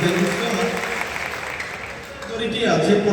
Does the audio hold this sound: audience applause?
yes